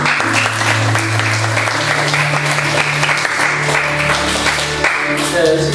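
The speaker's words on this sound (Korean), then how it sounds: "박수 한번 주세요" A church congregation applauds during a Sunday service, with dense sustained clapping filling the room, loud and continuous, and a voice talking faintly underneath.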